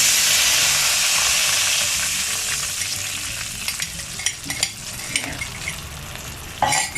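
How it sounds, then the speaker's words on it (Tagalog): Burger steak sauce mixture stirred in a hot pan: a loud, hissing sizzle starts strong and slowly eases, while the spoon scrapes and taps against the pan in repeated strokes toward the end. "Constant stirring lang tayo."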